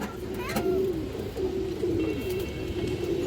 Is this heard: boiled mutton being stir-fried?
no